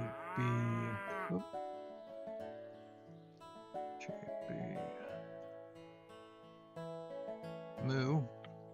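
Cow mooing in the Roblox farming game Farming and Friends: a loud drawn-out moo opens, followed by a second shorter moo near the end over steady game music.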